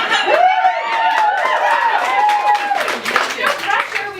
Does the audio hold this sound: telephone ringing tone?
no